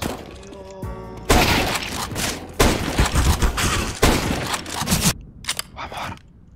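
Rapid bursts of gunfire crack out in the video game CS:GO, loud and close, in several dense volleys separated by brief pauses, with sharp impacts mixed in.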